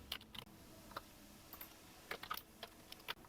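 Fingers typing on a computer keyboard while entering text into a cell of an MS Excel salary sheet, quiet scattered clusters of key clicks with short pauses between bursts, no talk.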